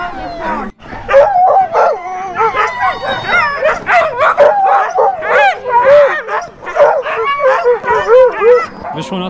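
A pack of sled dogs at a dog farm in Levi, Finland, keeps up dense, continuous barking, yipping, whining and howling, many dogs close by and overlapping, with a voice briefly in the mix.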